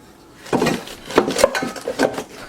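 A metal frying pan handled among pots and pans while packing a 30-year-old wooden camp cook box for duck camp: a few close clanks and knocks of cookware against metal and wood.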